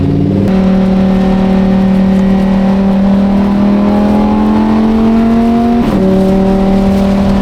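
A Lamborghini sports car engine revs steadily upward for several seconds, loud and close, with a brief gear change before the pitch climbs again.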